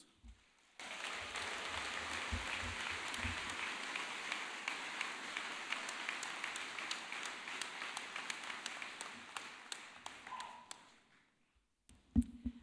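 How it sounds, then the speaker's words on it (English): Audience applauding at a university commencement for a college of business graduating class, sustained dense clapping from a large crowd that swells in, holds for several seconds, then thins out and fades. "let's applaud him again"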